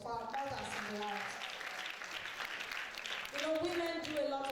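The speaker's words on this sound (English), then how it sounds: "a round of applause for our mothers in the lives." Steady clapping from a crowd at an International Day of the Girl Child event fills the clip, with voices and cheering mixed in throughout, growing a little louder near the end.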